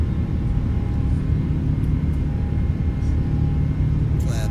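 Airplane on its takeoff roll and climb-out just after rotation, a loud, steady engine roar and rumble that holds evenly throughout, with no clear separate gear-retraction thump.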